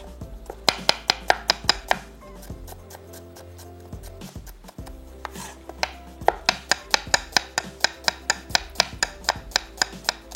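A medium onion is finely sliced with a knife on a board, a fast regular run of sharp close taps, then a short pause, then another quick even series of cuts.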